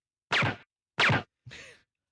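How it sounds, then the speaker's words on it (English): Theatrical movie silencer effect for a suppressed gun: three short, separate muffled bursts with clear gaps between them, the first two strong and the third softer and breathier. "this is the movie silencer sound."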